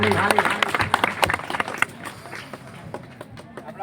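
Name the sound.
audience applause, clapping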